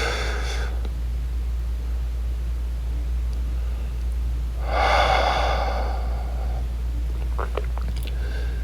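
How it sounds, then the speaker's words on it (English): Deep breathing during a yoga session: a soft breathy inhale-exhale stands out near the middle over steady low background hum, with fainter breath sounds at the start and a few small clicks near the end. "Deep breaths."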